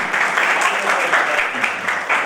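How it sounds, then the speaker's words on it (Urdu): A church congregation claps during a sermon, a steady, dense patter of applause from the audience lasting a couple of seconds. "آپ کی تالیاں کم ہیں، اس کی عزت زیادہ ہے"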